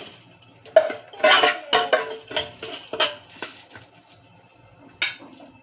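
Roasted grains for homemade baby cereal are scraped and tipped from a pot onto a plate, a quick run of about eight loud metallic scrapes and clinks, close up, then quiet and one last clink.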